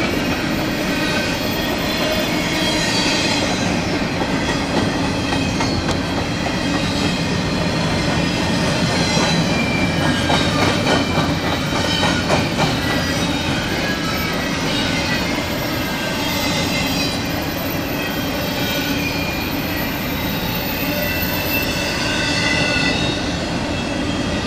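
A long BNSF grain train of freight cars rolls steadily past up close, with continuous loud rumbling, rail clatter and high metallic wheel squeal sustained throughout, no voices.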